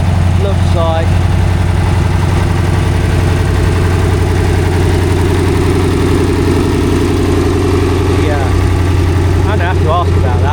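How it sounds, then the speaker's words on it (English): A Fordson Super Major tractor engine runs steadily at a country show, its loud, constant throb continuing throughout while people talk nearby. "Oh my god, check this rig out. There's a Fordson Super Major."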